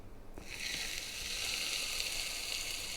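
Chaffle batter sizzles loudly in a Dash Mini waffle iron, starting with a brief click and then swelling into a steady, close, hissing fry that holds to the end, with no voices.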